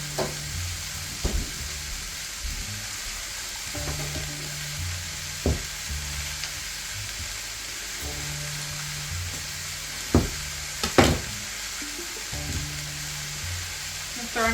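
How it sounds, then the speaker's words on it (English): About a tablespoon of butter sizzles steadily in a hot pan over olive oil while a cheesesteak casserole is cooked, a continuous frying hiss with occasional sharp scrape and stir clicks as brown bits come off the bottom. "I'm throwing about a tablespoon of butter."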